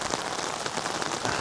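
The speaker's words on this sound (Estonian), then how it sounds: "sest ikka väga kõva vihm on" Heavy rain pours steadily onto a surface outside a pizza van, a dense, continuous hiss of drops close and loud with no voices over it.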